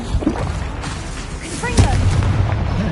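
A fire spell cast in the Hogwarts Legacy video game, giving a burst of whooshing, rumbling impact noise amid loud combat effects, with a voice shouting over it.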